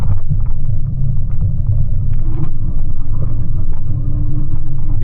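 A steady, heavy rumble of cars and trucks on an elevated motorway fills the air, loud and continuous with a deep low drone and faint passing vehicle tones, no voices.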